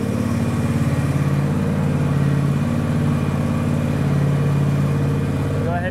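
A 2022 John Deere X394 four-wheel-steer riding mower backs up, its engine giving a loud, steady, close drone with a regular pulsing hum throughout.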